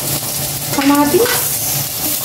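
Onion and tomato being stirred in a frying pan, with a steady sizzle and a brief burst of scraping and stirring near the middle, close and fairly loud.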